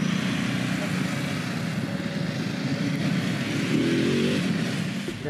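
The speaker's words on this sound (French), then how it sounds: "Et alors, les DSRX Rally sont en train de tourner autour de nous." DSRX Rally adventure motorcycles circle close by at a trail festival in the Alps, a continuous broad engine roar with a slight swell as one passes, under occasional talk.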